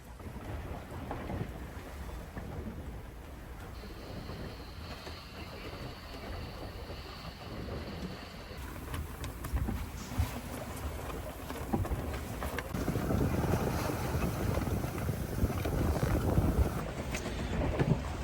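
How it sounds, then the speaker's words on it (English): Wind blows steadily around a sailboat out from shore at night on a solo sail from Italy to Slovenia, a constant loud rushing roar with water wash that grows stronger toward the end. "The winds picked up once we got a little bit away from shore."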